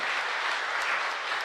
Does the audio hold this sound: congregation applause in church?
yes